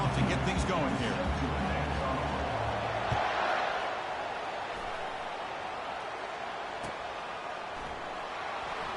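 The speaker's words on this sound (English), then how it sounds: "Listen to the crowd energy here in the early going." Stadium crowd roar from a college football video game, UNLV against Boston College at kickoff, a broad steady wash of cheering that swells early and then holds at a slightly lower level, with commentary-style talk layered over it.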